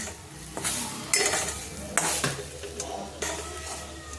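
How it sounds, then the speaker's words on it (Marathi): Three ingredients are dry-roasted in a pan over a low flame, with a soft sizzle under repeated scraping strokes of a stirring spoon, close and steady, with no voices. "आता हे तिन्ही पण ना सगळं छान असं कमी गॅसमध्ये मी भाजून घेते."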